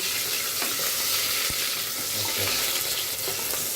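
Onion and cardamom fry in a pan for beef curry, a loud, dense, continuous sizzle heard up close with faint stirring scrapes and soft knocks throughout.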